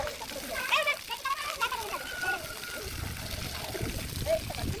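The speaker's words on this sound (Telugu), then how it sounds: "పామును బయటికి రప్పేయడానికి రంధ్రం లోపటికి నీళ్లు పంపించారు" Water is poured into a snake's hole, splashing and trickling in uneven bursts, with children's voices and chatter mixed in throughout.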